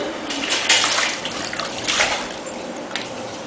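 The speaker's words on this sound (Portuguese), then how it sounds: "Fica todo mundo jogando água em você." Water splashes and sloshes in bursts, as if thrown from a bucket at someone outdoors, with several louder surges over a steady wet wash.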